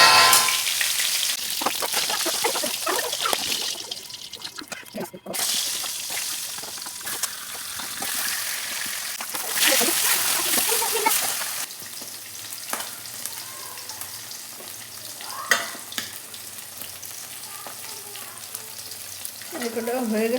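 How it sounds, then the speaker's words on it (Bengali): Food sizzles steadily in a hot pan with occasional stirring scrapes, a continuous close frying hiss running throughout with brief louder bursts. "এটা হয়ে গেছে ভাজা এখন উঠে নেব"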